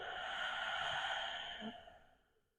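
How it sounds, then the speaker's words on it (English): A single soft, breathy exhale through the nose during a low-back stretching session. The breath is close and quiet and fades out over about two seconds. "Exhale through the nose."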